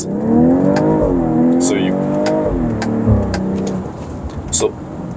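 A BMW X3 M40i's engine revs as the car accelerates, its pitch rising and falling through the gears, heard from inside the cabin while a person talks over it.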